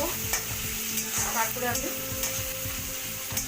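Onions frying in a pan for a thin prawn curry with potato and pumpkin, a steady close sizzle with rhythmic stirring scrapes, and someone briefly speaking over it.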